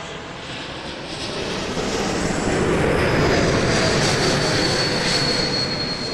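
An Air Canada airliner takes off from runway 05 at Toronto Pearson, its jet engines roaring in a loud, steady rush that builds slightly and holds as it climbs away.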